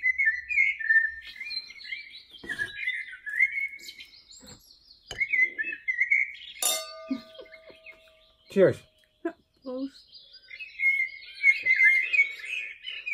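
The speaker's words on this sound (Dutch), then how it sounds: "Luister nou naar de vogels." Birdsong outdoors on a cold day: bright whistled chirps and trills come in repeated phrases, close and clear, while people briefly exchange a toast and clink glasses.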